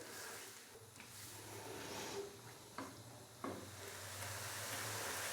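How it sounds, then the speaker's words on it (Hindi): Onions frying in ghee in a pan, a soft steady sizzle with a few light clinks of stirring, heard up close and alone. "प्याज डालने के बाद हमने प्याज को मज़ीद 4 से 5 मिनट के लिए फ्राई करना है"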